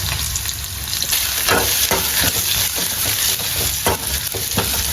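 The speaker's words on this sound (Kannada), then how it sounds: "ನೀರುಳ್ಳಿ ಪಾಡ್ದು ಬೊಕ್ಕ ಬೆಳ್ಳುಳ್ಳಿ ಪಾಡ್ದು ಫ್ರೈ ಮಲ್ಪಲೆ" Onion and garlic frying in oil in a pan for Mangalore-style crab sukka, a steady close sizzle broken by repeated scraping stir strokes, with no talking.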